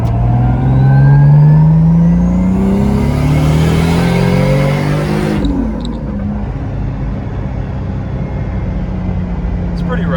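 A drift car, a Lexus IS300 swapped to a single-turbo 1JZ engine, revs loudly up close, its pitch climbing and then dropping back to a rough, rumbling idle. Steady wind noise sits under the engine.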